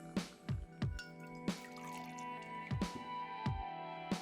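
Blue curacao poured into a glass for a Tennessee Serpent cocktail, heard as a series of close, distinct drips and splashes that repeat in an irregular rhythm over a quiet background.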